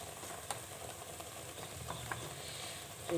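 Cumin with a garlic, ginger, onion and tomato paste frying in a pan, a low steady sizzle under occasional stirring clicks, fairly quiet and close.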